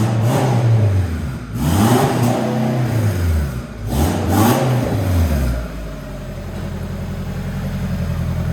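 A twin-turbo car accelerates hard on the road, its engine note sweeping up through the revs twice in loud surging pulls before easing off to a steadier, lower drone at cruising speed.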